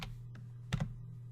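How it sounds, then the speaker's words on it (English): Several quick taps on a computer keyboard as a stock ticker is entered, soft clicks over a faint steady hum, close up and quiet. "So I'm going to type that ticker in"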